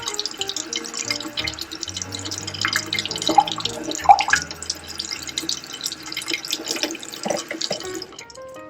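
Hot tap water runs and splashes while a refillable single-cup Keurig coffee filter is rinsed in a sink, a continuous close stream with irregular drips and clinks.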